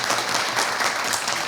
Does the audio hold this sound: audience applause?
yes